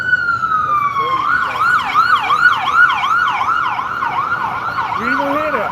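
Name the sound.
emergency vehicle siren passing in street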